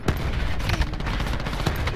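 Dense, continuous gunfire from the video game Call of Duty: Black Ops 4, loud, rapid overlapping shots and bursts filling the whole stretch with no break.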